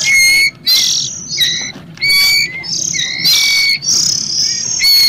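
Repeated high, thin chirps from a young bird, loud and close, coming in quick bursts with brief pauses and no talking.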